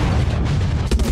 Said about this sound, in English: I had them on the gun and was shooting!